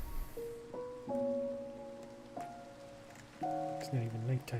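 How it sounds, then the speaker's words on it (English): Minecraft rain hisses steadily in the background beneath slow, sustained melodic game music notes that step between pitches. "It's not even nighttime, it's just raining."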